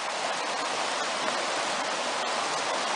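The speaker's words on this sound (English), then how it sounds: "the water's moving pretty fast and it looks pretty deep" Fast, deep river water rushing on a backpacking trail in the foothills, a steady loud broadband roar close by, with no talk over it.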